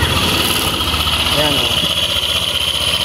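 Engine idling steadily at close range with a damaged pulley, a constant mid-pitched running drone, while someone speaks briefly over it.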